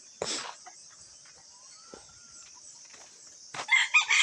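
Backyard chickens, including large roosters, give a short cluck near the start and a burst of louder calling at the end, over a steady high insect drone.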